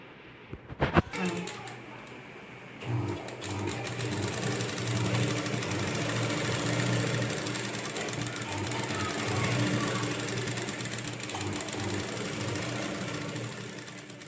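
A sewing machine runs steadily at close range, stitching seams along the panels of a Rajputi lehenga. A short clatter comes first, then a continuous whirring drone carries on for over ten seconds with no talk.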